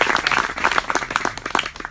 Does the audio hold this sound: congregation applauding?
yes